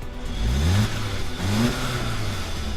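A 2-liter turbocharged four-cylinder in an Audi A3 revs twice, each climb in pitch rising and falling back over a steady hum, moderately loud and close, with no talking.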